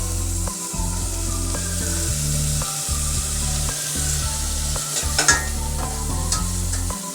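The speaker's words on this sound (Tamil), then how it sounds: "ஆனியன் நல்லா வதங்கட்டும்" Finely chopped onion sautés in a pan with ginger and garlic while being stirred for egg drop soup. Loud, close sizzling runs throughout, broken by repeated low scraping strokes of the stirring spoon.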